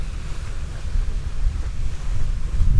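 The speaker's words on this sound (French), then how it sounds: "Toujours pas mal de vent" Strong wind buffets the microphone at a lake shore while low rumbling gusts and lapping water keep up a steady, loud roar, with no voices.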